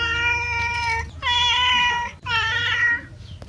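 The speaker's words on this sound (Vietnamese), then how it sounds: "Mèo ăn ngon mày nha." A cat meows three times in close succession, each call loud, drawn out and tonal, with brief pauses between them and no talking.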